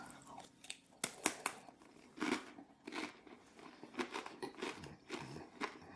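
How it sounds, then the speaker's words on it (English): Crunchy bites and chewing of a dry, unsalted rye cracker topped with Point Reyes Toma cheese, close up, a few sharp crunches followed by irregular softer chewing and crackling, with no talk. "Takes a lot of chewing."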